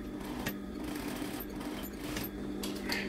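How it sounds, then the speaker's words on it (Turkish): A straight-stitch sewing machine runs steadily while stitching a dress made of Şile cloth, a close, continuous motor whir with a rapid needle rhythm and no talk. "Şimdi düz makinalarını çekerek tamamlamış oluyorum"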